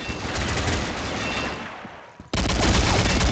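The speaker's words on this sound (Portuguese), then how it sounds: "Olha a rajada que eu dou" Rapid gunfire burst in an online shooter game, dense continuous crackle of automatic shots filling the clip, dropping briefly before a loud renewed burst near the end.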